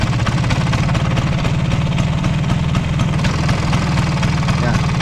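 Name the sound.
Vespa scooter engine revved, showing abnormal engine noise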